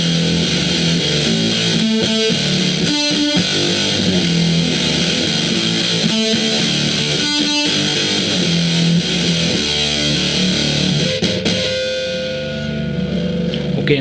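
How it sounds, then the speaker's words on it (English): Electric guitar through a copy of a Univox Super Fuzz pedal set fully up, thick buzzy saturated fuzz tone with chopped rhythmic stabs and sustained chords, loud and steady throughout, fading slightly near the end. "Now I'll turn it up, all the way up."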